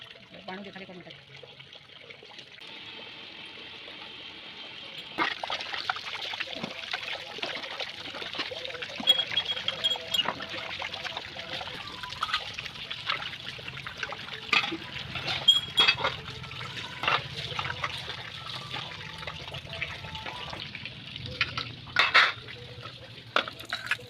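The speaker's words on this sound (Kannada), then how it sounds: "ಅಮ್ಮ ದೇವ್ರ ಪಾತ್ರೆ ಎಲ್ಲ ಕ್ಲೀನ್ ಮಾಡ್ಕೊಳ್ತಾ ಇದ್ರು ಬೆಳಿಗ್ಗೆನೆ." Puja vessels being washed under running water: a soft trickle with intermittent clinks and scrapes of metal pots, faint and close, continuing for over twenty seconds with no talk over it.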